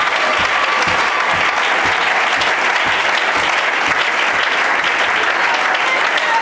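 A church congregation claps steadily and enthusiastically in acclaim of Jesus, a dense, sustained wash of applause filling the room from start to finish with no voices standing out.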